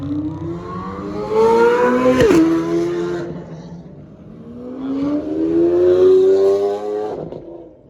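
A Lamborghini Aventador SVJ V12 revs hard in two loud rising surges, the pitch sweeping up, dropping sharply between bursts, then climbing again, close and aggressive with a brief sharp crack at the first peak.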